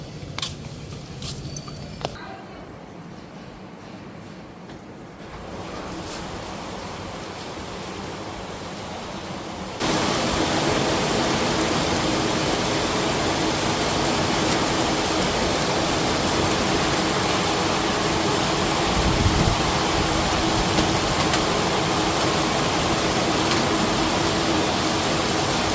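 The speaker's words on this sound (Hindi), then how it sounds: "बारिश काफी तेज आ गई है।" Heavy rain pours down as a dense, steady hiss that grows noticeably louder and fuller about a third of the way through, then continues unbroken.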